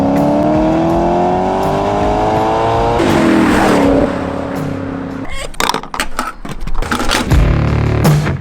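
A Maserati drives on the road, its engine rising in pitch as it accelerates through the gears. A whooshing shift breaks the pull, then the engine sound turns choppy with bursts and fluctuating revs.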